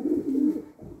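A pigeon coos close by in one low, throaty, rolling call that swells and fades, then a softer second note begins.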